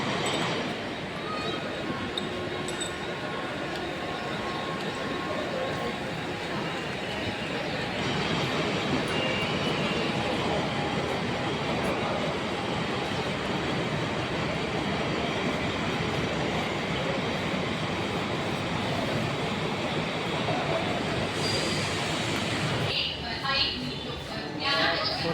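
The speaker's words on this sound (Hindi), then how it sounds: "आ गए स्टेशन, आ रही है ट्रेन लेकर" A train pulls into a station on a trip from Mumbai to Mirzapur, with a steady loud rumble of rolling cars and wheel noise, a brief squeal near the end, and voices mixed in.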